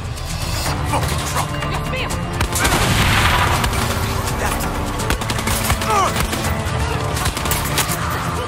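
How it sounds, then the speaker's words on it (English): Gunfire in the video game Far Cry 6, a dense burst of rapid shots and crashing impacts over a busy game soundscape, with a voice briefly speaking during the exchange. "Gunshots."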